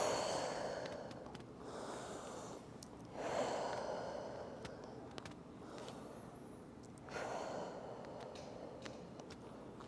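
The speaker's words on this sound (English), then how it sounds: "Let's take 3 deep breaths here. So inhale and exhale." Slow deep breaths during a yoga session, three long airy inhales and exhales in a gentle rhythm, soft and close in a quiet room.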